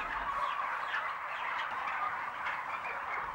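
Many turkeys gobble and chatter together inside a crowded UK turkey farm shed, a dense continuous din of overlapping bird calls at moderate volume with no talking.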